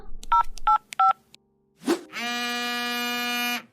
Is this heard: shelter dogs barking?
no